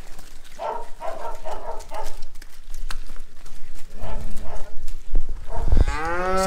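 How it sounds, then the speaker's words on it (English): Longhorn cattle mooing on an open hillside in a rewilding herd, several drawn-out low calls coming and going, the last one loud and close, with a dog barking faintly in the background. "So those cows will get pushed up to the hill."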